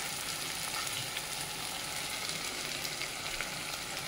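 Chopped onion and grated ginger fry in a pan, giving a steady, even sizzle that holds for the whole stretch without pause, close and moderately loud, with no talking.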